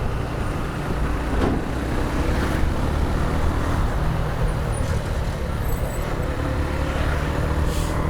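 A Suzuki motorcycle overtakes a truck on the road, heard as a continuous loud roar of engine and traffic noise with passing vehicle rumble throughout.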